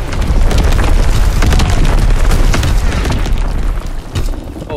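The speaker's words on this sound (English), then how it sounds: "Azon bomb mission underway" Azon bomb explosions in the video game Call of Duty: World War II, a dense, loud, continuous barrage of booming blasts and crackling debris filling the whole stretch with no pause.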